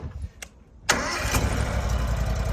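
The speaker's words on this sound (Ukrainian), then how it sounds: "Зараз ми запустимо, послухайте, яка робота двигуна." The small Honda petrol engine of a two-rotor power trowel cranks with a short click, then catches and settles into a steady, close running hum.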